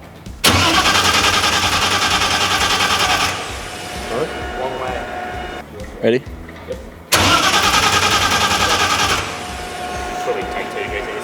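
A Nissan R32 GT-R race car engine cranks and fires into a loud, rough idle, dips, then revs hard again, heard from inside the car with a brief spoken word.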